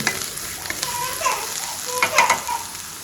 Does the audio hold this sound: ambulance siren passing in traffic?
no